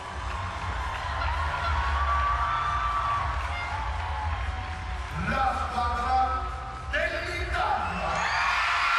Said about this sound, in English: So the crowds will go wild.